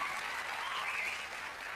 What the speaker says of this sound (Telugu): ఇప్పుడు చప్పట్లు కొట్టినందుకు నేను చాలా ఆనందిస్తున్నా